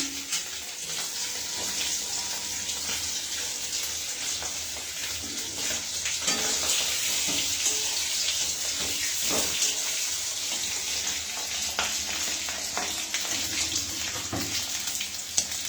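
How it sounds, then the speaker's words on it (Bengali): Potatoes frying in a pan give a steady, broadband sizzle that runs evenly throughout without a break, with faint clinks scattered under it and no one talking. "আলুগুলো ভাজা হওয়ার সাথে হতে থাক"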